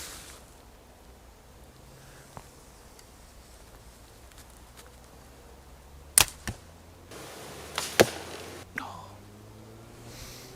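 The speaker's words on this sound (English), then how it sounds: "we'll draw that arrow again and we'll shoot that one off this" Arrows fired from a 130 lb superbow land as a few sharp, brief cracks and thuds against a quiet outdoor hiss, with faint murmuring voices nearby.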